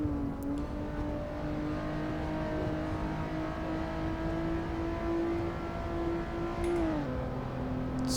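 A Honda NSX on track in Assetto Corsa holds a smooth, steady engine drone at moderate revs, then drops in pitch toward the end as the throttle eases, with no talk.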